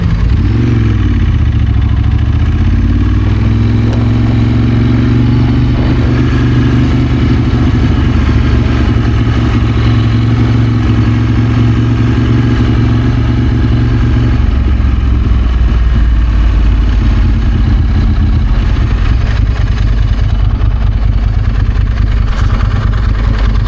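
Motorcycle engines at the Brands Hatch Festival Italia rumble loudly and continuously, with a ridden Ducati 916 among them, a heavy close drone with shifting pitch and a rise in revs partway through.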